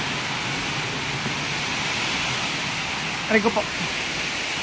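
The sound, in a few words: leaking water running from pool on roof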